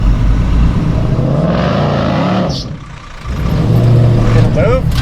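An off-road vehicle stuck and buried in ruts, its engine revving hard while the wheels spin without moving, loud and close, dipping briefly midway, with voices talking over it.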